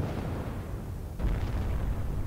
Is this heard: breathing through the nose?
no